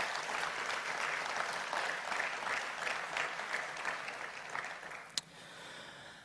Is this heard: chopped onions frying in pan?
no